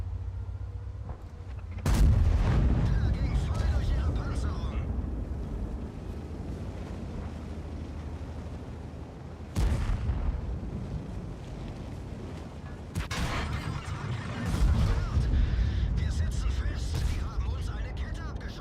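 Tank cannon shots in World of Tanks, with a VK 45.02 A and B and an M103 in play, land as several loud sudden booms with rumbling decays between them, while a player talks.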